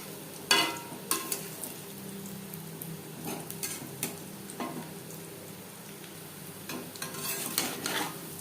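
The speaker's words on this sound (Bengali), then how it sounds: "উল্টে পাল্টে প্রথম ব্যাচের পাকোড়া ভাজা হয়ে গেছে" Pakoras frying in hot oil while being turned, giving a soft steady sizzle broken by scattered clinks and scrapes of a utensil against the pan, close and fairly quiet, with no talking.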